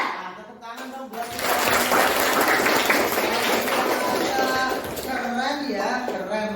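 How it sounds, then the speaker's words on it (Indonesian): Students in a classroom break into loud, sustained applause for several seconds. Children's voices can be heard before and after the clapping. "Tepuk tangan dong buat"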